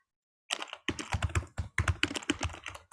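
Rapid typing on a computer keyboard, with close, crisp key clatter arriving in uneven bursts and short pauses, and no voices.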